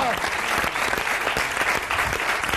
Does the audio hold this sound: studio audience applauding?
yes